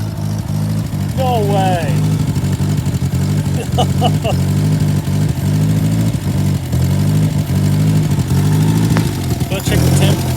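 A 1950s Fawton Ford tow motor with chain drives, diff and drive shaft runs steadily at a low idle throughout, a close, loud rumble with people talking over it.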